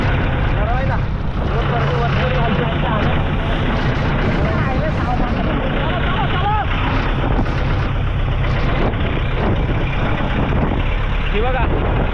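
A fishing boat's engine runs steadily during dol-net fishing at sea, a loud continuous rumbling drone with no pauses, while people talk over it throughout.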